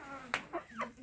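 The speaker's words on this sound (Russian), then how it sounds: "Вот так вот они у меня зимуют, мои курочки." Hens in a winter coop give a few short, soft clucks in quick succession, faint and close in a quiet indoor space.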